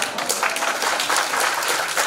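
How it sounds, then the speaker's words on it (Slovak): Audience applause at a Slovak carnival-season concert, a dense, steady wash of many hands clapping throughout, fairly loud and close with no talking over it. "Super, ešte raz potlesk."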